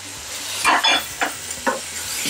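A pot of chicken macaroni with broth is stirred, giving a low hiss beneath a few short scraping swishes of the spoon, close and brief.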